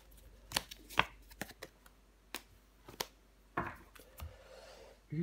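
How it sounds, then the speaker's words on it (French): Tarot cards are laid down and handled on a table, giving scattered soft slaps and flicks with gaps of quiet between them and a brief rustle near the end, with no talking. "On va recouvrir des cartes."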